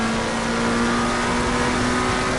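Race car engine in Assetto Corsa holding a steady, loud drone with a strong constant tone, running continuously throughout without voices.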